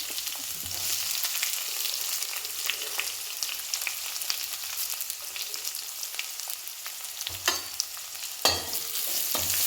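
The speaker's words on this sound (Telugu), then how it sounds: "ఎరిగేట అయితే ఇప్పుడు వేగింది ఫ్రెండ్స్" Onion frying in oil with mustard seeds and curry leaves for Andhra-style tomato gojju, a steady close sizzle with a few sharper crackles and stirring scrapes near the end.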